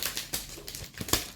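Mirror paper stuck to sticky tape crinkles and crackles close by in a few quick, uneven bursts, faint and without talk.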